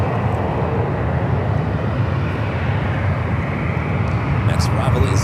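A Condor Airbus A330 airliner departs San Francisco airport, its engines a loud, steady broadband roar held throughout without pause.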